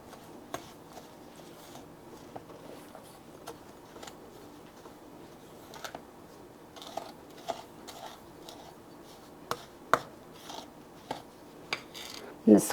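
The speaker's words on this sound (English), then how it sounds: "So we're going to mix this up, and they call it creaming." Butter and other ingredients creamed by hand in a mixing bowl, giving irregular soft scraping taps and clinks of a utensil against the bowl, fairly quiet with a few sharper knocks toward the end.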